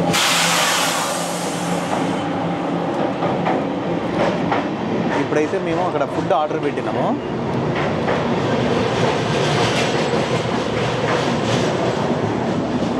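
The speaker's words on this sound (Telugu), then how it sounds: "అంత సూపర్ ఫాస్ట్ ట్రైన్ అనమాట ఇది" Inside a superfast train running from Bangalore to Delhi, a steady rumble and rhythmic clatter of wheels on track fill the cabin while a person talks over the noise.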